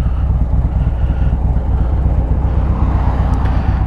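A Harley-Davidson motorcycle fitted with a Rekluse auto clutch idles and rolls at low revs through a construction zone, its engine giving a loud, close, steady throbbing rumble with wind noise and no talking.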